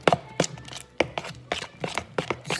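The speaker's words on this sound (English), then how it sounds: "stirring this in with the egg" Cake batter with egg being stirred in a bowl for a cinnamon swirl bundt cake, giving regular sharp taps and scrapes of the spoon against the bowl, about two per second, close and clear with no talking.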